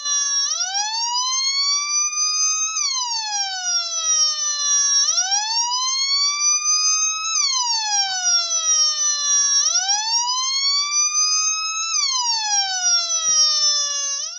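A DIY police siren circuit powered by a 5-volt mobile charger board wails in steady rising sweeps, loud and continuous, repeating every couple of seconds with no talk.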